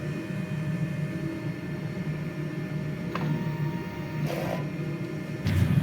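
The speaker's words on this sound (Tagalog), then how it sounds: "Head clean." A DTF printer runs a print head cleaning cycle: a steady machine hum and whir throughout, with a few brief mechanical clicks and whooshes near the end and no talk.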